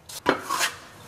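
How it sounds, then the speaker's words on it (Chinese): A knife slices through ginger on a cutting board, making one or two crisp, short cuts close by with no voices. "然后我们准备点生姜切成片，稍微可以切厚一点点"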